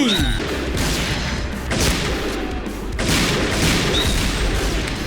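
Barrett and Kar98k sniper rifles firing in the video game Point Blank: three loud, booming shots spaced about a second and a half apart, each ringing over steady battlefield noise.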